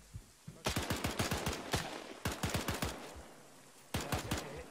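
Bursts of Bren light machine gun fire in a military video game, rapid sharp shots in three separate volleys, loud and close, with short pauses between bursts.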